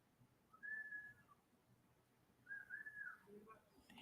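Faint whistling melody within an AI-generated song, two short rising-and-falling whistled phrases over a quiet, sparse background.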